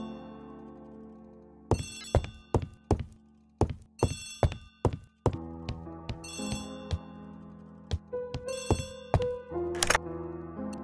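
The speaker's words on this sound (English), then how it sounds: "Poirot, the telephone." A telephone rings in The ABC Murders video game, repeated bright trilling bursts over a low musical background, with soft thunks in between.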